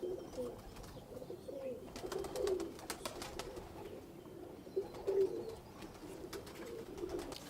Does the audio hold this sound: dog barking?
no